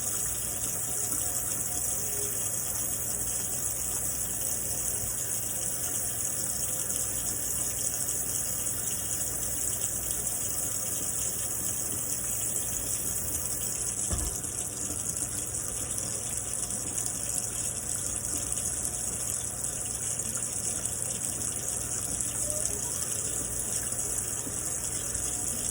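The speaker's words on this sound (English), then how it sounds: "So I'm going to go ahead and wash my hands." A tap runs continuously for hand washing, giving a steady broad hiss of flowing water throughout, with one brief knock partway through.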